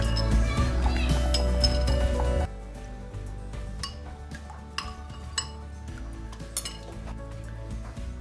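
A metal pot holding a melted shea butter mixture is lifted off the stove, a loud burst of burner or cooking noise cutting out after two seconds, followed by scattered light clinks and clatters of kitchenware nearby.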